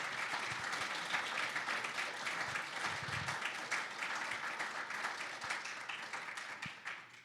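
An audience applauds a live panel on disability inclusion in Canadian medical education, giving a dense, continuous wash of clapping that stays fairly faint and distant for the whole stretch.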